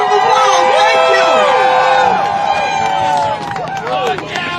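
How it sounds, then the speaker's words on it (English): A protest crowd at a Minneapolis rally over immigration enforcement whoops and cheers loudly, shrill overlapping yells and whistling rising over a babble of voices, with clapping hard to pick out beneath the shouting. "Give yourselves a round of applause."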